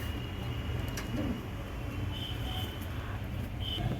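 Pigeons, including Lombardi birds, coo softly in a loft, low murmuring calls repeating faintly against a steady background hum.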